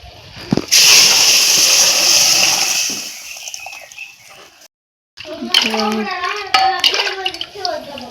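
Water pouring from a tap into a cooking pot in a home kitchen, a loud rushing hiss for about two seconds that fades out, followed by people talking nearby, including a voice.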